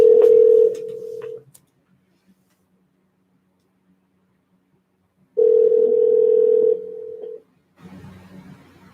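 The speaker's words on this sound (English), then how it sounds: "We're just making a phone call, guys." A phone ringback tone sounds in two long steady beeps separated by silence, clear and close, with faint line noise afterward.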